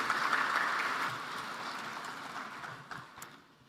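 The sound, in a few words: audience applause for World Bank president Ajay Banga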